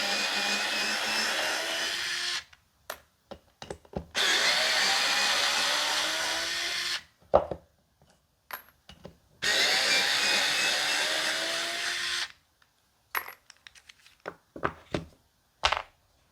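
A rechargeable electric screwdriver whines steadily in long runs as it drives screws into wood, separated by gaps filled with clicks, taps and handling knocks, close and fairly loud.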